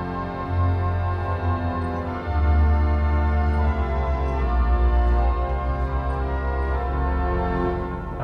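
Pipe organ voicing a voix celeste coupled with a gamba string stop, a warm, shimmering sustained chord with shifting bass notes, playing alone and steady throughout.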